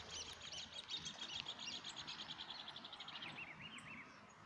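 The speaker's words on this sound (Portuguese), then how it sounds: "Ó, tá cheio de passarinho." Small birds chirp outdoors in a quick, busy series of high tweets, faint and slightly distant, with no talking over them.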